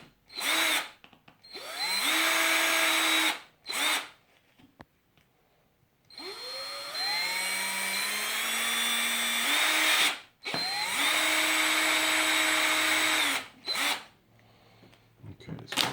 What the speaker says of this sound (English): So now I'm going to drill just not all the way through